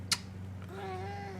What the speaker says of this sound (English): My cat's a talker.